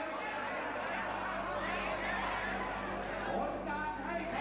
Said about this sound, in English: You can hear actually from the rabble in the crowd